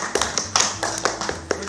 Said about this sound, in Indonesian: Tepuk tangan lagi, tepuk tangan buat.